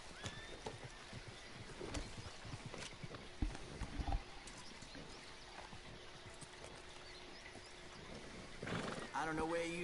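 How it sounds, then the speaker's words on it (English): Horse hooves clip-clop and a horse whinnies in Red Dead Redemption 2, faint and intermittent under quiet speech, with a louder burst of activity near the end. "I like your horse, Arkansas."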